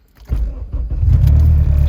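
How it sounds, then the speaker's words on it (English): A Honda car engine cranks and catches, short starter bursts building into a loud, steady idle rumble close by, with a faint jingle of keys as it fires. "So if I turn the car on"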